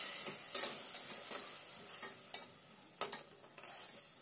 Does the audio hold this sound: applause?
no